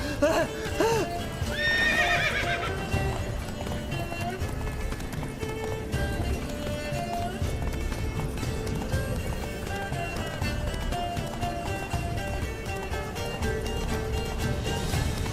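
Horse galloping in The Witcher 3 video game, with steady clip-clop hoofbeats and an early whinny, carried under continuous game music and ambience at moderate loudness.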